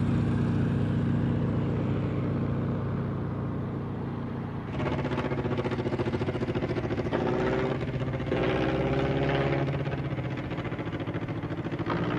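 A Fokker trimotor monoplane from 1928 drones steadily in flight, a continuous loud engine roar with shifting propeller tones and no voices.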